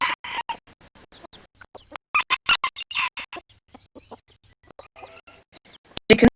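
Chickens clucking on a farm, with short repeated clucks and calls in bursts, fairly close and clear with brief pauses between them and a sharper call at the end.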